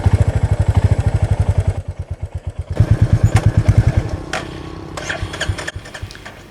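A Royal Enfield Meteor 350 motorcycle engine running just after starting, loud close thumping single-cylinder pulses in a steady rhythm that briefly dips, then picks back up, with some clattering near the end.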